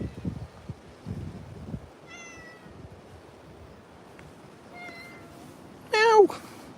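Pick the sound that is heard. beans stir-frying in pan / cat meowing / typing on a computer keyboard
cat meowing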